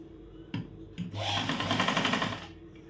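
A sewing machine stitches a size-38 katori blouse: two short taps, then a fast, steady mechanical whirr of stitching lasting about a second and a half, close and loud, with no talk over it.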